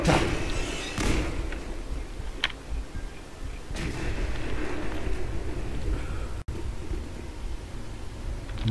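A loud, rumbling nuclear blast in Fallout 4 with heavy low-end thuds and a sustained roar of noise, like a huge in-game explosion echoing on.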